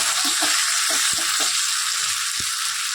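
Chopped tomato hitting potatoes frying in a pan gives a steady, close hiss of sizzling oil, with a few soft thuds and stirring taps scattered through it.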